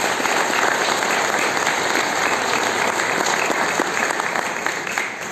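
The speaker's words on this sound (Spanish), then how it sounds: "Un aplauso para don Luchi." Audience applause at a school ceremony honouring a longtime teacher and director, a loud, steady wash of many hands clapping close by that fades slightly at the end.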